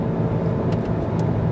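Volkswagen Golf GTI Performance engine heard from inside the cabin, its note boosted by an interior sound actuator: a steady, low, droning hum that stays constant and fairly loud with no voices.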